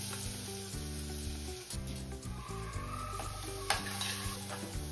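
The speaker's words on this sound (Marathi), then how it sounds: "त्यानंतर लसूण, हिरवी मिरची आणि जिरं वाटले ते टाकूया" A ground paste of garlic, green chilli and cumin sizzles in hot oil with asafoetida for a Maharashtrian masvadi curry. The frying is steady and fairly faint, under a continuous tonal background.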